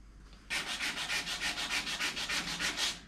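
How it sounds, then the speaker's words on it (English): Rhythmic back-and-forth hand sanding of a car firewall, about fifteen even rasping strokes starting after a short pause, close and clear with no talking. "So I'll carry on sanding."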